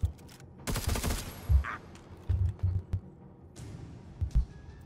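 Gunfire in the turn-based video game Necromunda Underhive Wars: a few short bursts and single shots in quick clusters, fairly close and punchy, with no talk over them.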